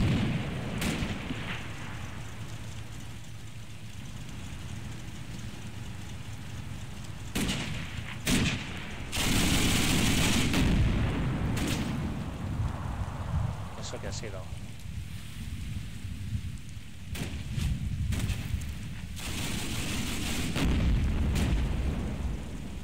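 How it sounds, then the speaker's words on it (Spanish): Gunfire and explosions sound in Combat Mission: Battle for Normandy, a World War II tank battle game, as a steady rumbling battle bed broken by several loud booming bursts, with someone talking over parts of it. "Ojo, porque esos son disparos ya."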